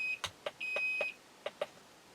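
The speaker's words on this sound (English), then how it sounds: "Oh, I set off one of the Geiger counter's alarms there." A Geiger counter sounds its alarm near uranium glass and Fiestaware: high electronic beeps, one short and one longer, mixed with several sharp detection clicks, fairly close and moderately loud with no speech.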